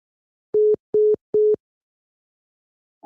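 Three short, evenly spaced telephone line tones beep after a caller hangs up on a radio call-in show, clean and loud against silence.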